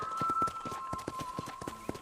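Rhythmic clip-clop of horse hooves trotting steadily at a ranch in Red Dead Redemption, close and clear, over a constant synthetic tone from the game soundtrack.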